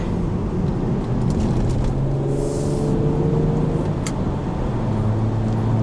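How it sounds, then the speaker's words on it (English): Infiniti G35 Coupe engine pulling in third gear after a downshift on tight mountain curves, a steady loud drone with rising and falling harmonic tones, continuous and close, with no voices. "Let me downshift to third."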